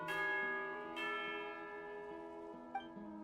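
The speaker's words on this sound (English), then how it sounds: "You hear the sound of a bell." A resonant bell tolls for tea time in a video game, with two clear strikes early on and a lighter third near the end, each leaving a long shimmering ring that decays softly, heard alone.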